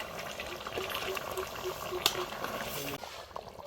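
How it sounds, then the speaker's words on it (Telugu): Goat head curry boils on a stove over an open fire, making a steady bubbling simmer with soft pops, close and moderately quiet. "ఇప్పుడు మంచిగా ఉడికింది కుతకుతా అంటుంది చూడండి"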